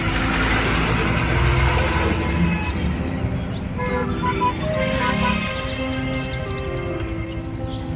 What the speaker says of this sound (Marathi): चंदगड बाजारला आलो, तर ट्रॅफिक आहे बरे आज बाजारला